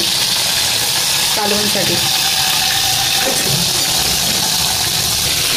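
Fish frying in a pan for a masala fish fry, a steady loud sizzle and crackle of hot oil, with a voice speaking briefly over it.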